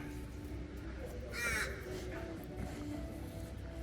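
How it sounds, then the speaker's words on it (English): A single crow gives one clear caw partway through, moderately distant, over a constant low outdoor hum on a balcony with a bald cypress bonsai. "Hello, crow."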